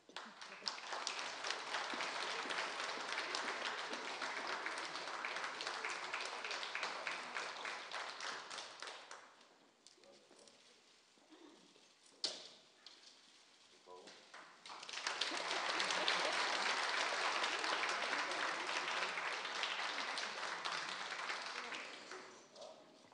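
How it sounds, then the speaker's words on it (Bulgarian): Audience applause at an award ceremony honouring worthy Bulgarians: loud, sustained clapping for about ten seconds, a quieter pause, then a second strong burst of clapping that carries on to the end. "Аплодисменти."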